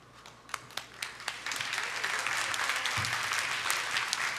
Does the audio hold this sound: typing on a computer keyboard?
no